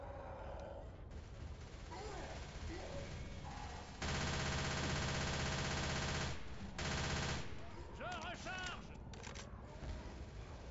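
Sustained automatic gunfire in a Left 4 Dead 2 versus match, loud and continuous bursts with a long unbroken stretch in the middle, mixed with game effects and players talking over it.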